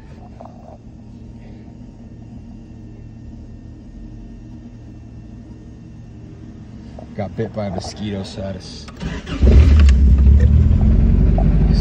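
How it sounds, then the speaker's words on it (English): A 1977 Toyota Celica's engine cranks with a few sharp mechanical bursts and then starts, settling into a loud, close, rumbling run. Someone talks earlier over quieter background noise. "So let's turn the car on and figure this out"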